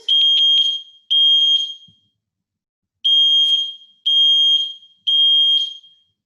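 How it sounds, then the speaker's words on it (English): A smoke alarm's test button sets off a piercing, high-pitched alarm in long bursts, three in a rapid cluster, a pause, then three more, loud and close with nothing else. "it makes that really loud, annoying noise, but that lets you know that it's working"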